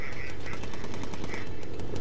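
Rapid machine gun fire from a gunner aboard a bomber in the video game Bomber Crew, shooting at an engine: a fast, evenly spaced stream of sharp shots that runs unbroken and alone.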